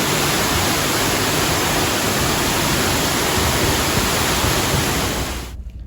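A waterfall inside Smoo Cave roars as a dense, steady rush of water, loud and unbroken, then cuts off abruptly at the very end.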